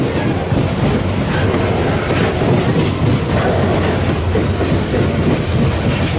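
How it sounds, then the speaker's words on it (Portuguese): A freight train rolls past on a Brazilian export rail corridor, a loud, continuous rumble with steady clickety-clack of wheels over rail joints, close by and with no talking. "e o trem tá passando, velho"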